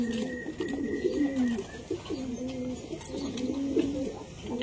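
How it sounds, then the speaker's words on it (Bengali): Pigeons cooing while drinking water on a rainy day, a repeated low throaty coo in a steady rhythm, close and clear over faint background noise. "কেমন জল খাচ্ছে দেখুন পায়রাগুলো।"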